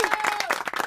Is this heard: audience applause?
yes